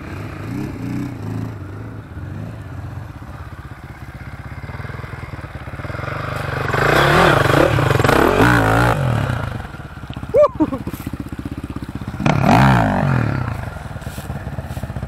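A Kawasaki KMX 125cc dirt bike labors up a slick bentonite hill, its engine revving and straining in loud surges, with scraping and clattering as it struggles, while people shout nearby.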